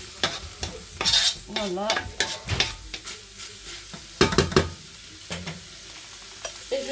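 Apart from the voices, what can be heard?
stirring bolognese sauce with black pepper in a frying pan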